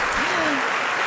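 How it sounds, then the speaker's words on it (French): An audience applauds a dance troupe at a girls' education day performance, with dense, steady clapping throughout and a voice briefly rising over it. "Merci d'applaudir encore la troupe des espoirs de la banlieue."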